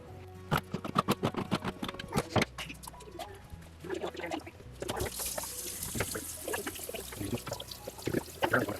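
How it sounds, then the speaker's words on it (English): Running water pours over raw pinto beans in a kitchen bowl, with trickling, splashing and sharp clatters of beans and utensils, close and fairly quiet, fluctuating throughout. "Now we're going to wash some pinto beans."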